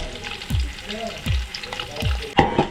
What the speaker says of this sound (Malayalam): ആ നമ്മളത്തെ തേങ്ങക്കൊത്ത് വറുത്ത് കോരി എടുക്കാനായിട്ട് പോവാണ്.